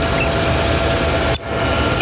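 A Ford turbo diesel car engine idles with a steady low rumble and vibration, close and continuous, broken by one brief dip before it settles back to the same even drone.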